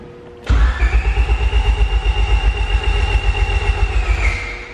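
A car engine cranks on the starter in a steady rapid chug for about four seconds without catching. The chugging is loud and close, and no one speaks.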